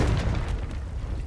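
A Confringo fire spell explodes in Hogwarts Legacy with a dull, rumbling boom that stays fairly quiet and spreads into a continuous low roar without sharp peaks.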